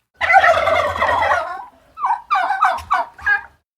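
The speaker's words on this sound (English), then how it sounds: "for those of you with property choked up with too many turkeys" Loud wild turkeys gobbling up close, one long rattling gobble followed by several shorter overlapping calls.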